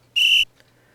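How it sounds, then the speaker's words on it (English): One shrill, steady coach's whistle blast, loud and close, lasting about a quarter second, followed by near silence. "The coach's whistle blows"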